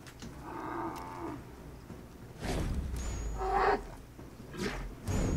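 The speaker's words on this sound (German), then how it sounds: "Ist das jetzt ein Elch? Oder ein Vapiti?" A large deer, an elk or wapiti in the forests of Assassin's Creed 3, gives deep, drawn-out bellowing calls, several separate cries of moderate loudness over a low rumbling background with no talk.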